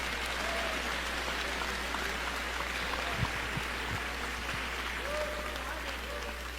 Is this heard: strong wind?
no